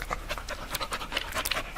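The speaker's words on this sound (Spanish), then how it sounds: "Mierda, un perro en el bosque." A dog pants hard in a forest, giving quick, rhythmic breathy puffs close to the ear, alone with no speech over them.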